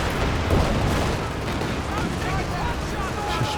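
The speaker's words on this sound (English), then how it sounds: "Barrage opening up the center a bit" An artillery barrage in Company of Heroes 2 gives a dense, continuous rumble of distant booms and blasts under a commentator's voice.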